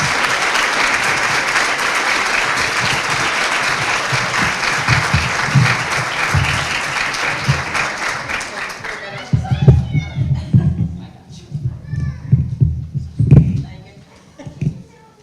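A forum audience at a transgender equality community event applauds the panelists in a loud, sustained burst of clapping that carries for about nine seconds, then thins out as voices and scattered sounds take over.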